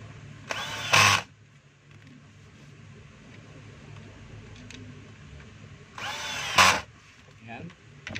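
A power screwdriver drives screws into the front housing of a DeWalt D25032 rotary hammer during reassembly, two short whirring bursts about five seconds apart, with quiet handling noises and soft talk in between.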